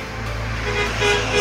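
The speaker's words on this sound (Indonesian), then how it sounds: "Ini ada bus juga ya." A bus rumbles past on the Trans-Sumatra highway with a steady low engine drone and tonal horn toots rising toward the end, loud and close amid road noise.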